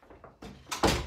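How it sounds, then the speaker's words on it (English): A household door is pushed shut at close range, with a few soft shuffling knocks building up to a solid thunk as it closes. "Take my sip of water and close the door."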